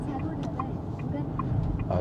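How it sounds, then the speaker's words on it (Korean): A turn signal in a Renault Grand Koleos ticks at an even pace of about one click every 0.4 seconds, crisp and close inside the cabin against a low road hum. "깜빡이가, 이 소리가 추억을 불러일으키는 깜빡이 소리입니다"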